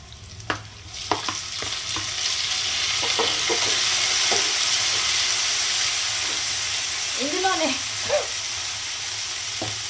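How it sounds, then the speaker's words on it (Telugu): Chopped tomatoes and onions fry in a pan with a steady, close sizzle throughout, broken by occasional spoon scrapes and stirring clatter. "ఆనియన్ కొద్దిగా రోస్ట్ అయ్యాక మనం కట్ చేసుకున్న టమాటా వేసుకోవాలి"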